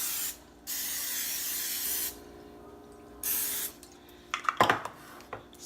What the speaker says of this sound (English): I'm going to use the olive oil cooking spray